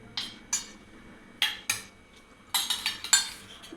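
A spoon stirs watermelon tutti frutti with food colouring in a bowl, giving sharp, irregular clinks and scrapes against the bowl, some in quick clusters, with no talking.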